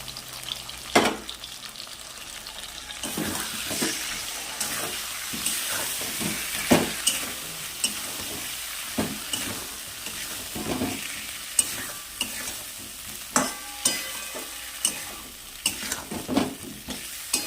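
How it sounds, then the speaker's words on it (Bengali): Potatoes frying with turmeric, salt and spices for a snakehead fish curry, a constant close sizzle broken by repeated scraping and knocking of a spatula in the pan. "দেখো আলুটা ভাজা হয়ে গেছে এবার আমি এর মধ্যে দিয়ে দেবো"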